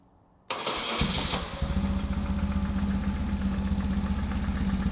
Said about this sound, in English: So I'm going to try and start the bike now.